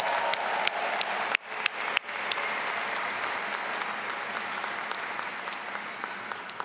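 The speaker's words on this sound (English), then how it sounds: "Let's give them a round of applause" Family and friends applaud graduates at the Duke MBA graduation ceremony, a large crowd clapping loudly and continuously, with a couple of brief dips near the start before the applause settles into a steady roar.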